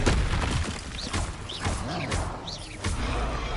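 Incendio fire spell cast during combat in the Hogwarts Legacy video game, a loud, dense run of roaring bursts and thumping booms with swooping magical whooshes rising and falling, repeating every half second or so without pause.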